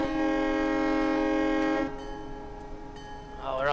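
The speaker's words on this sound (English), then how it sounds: "let's get this frickin' locomotive rolling" Metro North FL9 diesel locomotive in Train Simulator, a loud sustained horn chord cutting off into a low engine rumble as the train begins to move.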